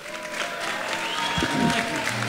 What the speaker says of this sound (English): let's give a great big, well-deserved 90th birthday rousing round of applause and standing ovation for the Honorable Governor Edwin W.